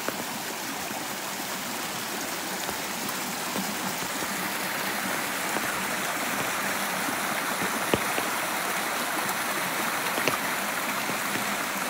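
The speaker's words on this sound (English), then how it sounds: "And look at that waterfall." A forest waterfall in Kristiansand, Norway rushes in a steady, broad hiss of falling water, constant and close, with no talking over it.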